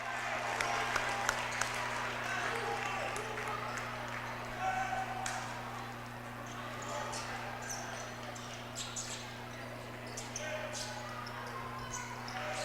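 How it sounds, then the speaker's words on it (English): A crowd at a high school boys' basketball game between Holy Redeemer and Hanover cheers and applauds in a continuous roar, with faint ball bounces and a commentator's voice underneath and a steady electrical hum throughout. "George Sabatini bringing the crowd to its feet"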